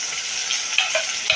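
Masala for a drumstick curry sautéing in a pan gives a continuous bright sizzle, with a few small clicks of stirring over a short moment.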